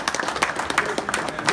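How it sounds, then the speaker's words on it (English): Audience applause at a college basketball banquet, a brief burst of scattered hand claps at moderate volume with some irregular, distinct individual claps. "So with this, if we can give Warren a round of applause."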